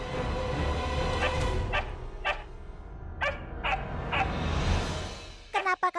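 A dog gives a run of short yelping barks and whimpers, fairly close, over a dense background of other sound, ending in a few rapid choppy bursts.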